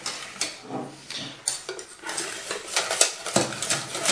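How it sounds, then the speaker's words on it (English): Pancake batter whisked in a bowl, with irregular clinks and scrapes of a whisk against the bowl and some clattering utensils, close and moderately loud. "And then you whisk it till it's like you want it."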